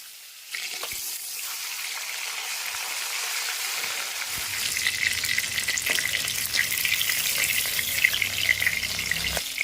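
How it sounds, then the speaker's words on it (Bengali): Fish frying in very hot mustard oil in a wok, a steady close sizzle that swells louder and crackles more densely about halfway through, with no talking. "এবারে মাছগুলিকে ভেজে নেব"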